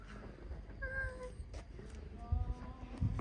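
An orange cat meows a few times outdoors on a terrace in Santorini, Greece, the short calls soft and fairly close against quiet background ambience.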